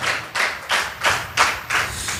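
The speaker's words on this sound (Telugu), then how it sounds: "గట్టిగా చప్పట్లు కొట్టాలి." A congregation at a fasting prayer meeting clapping loudly in a slow, even beat, about six strong claps in two seconds, close and unaccompanied.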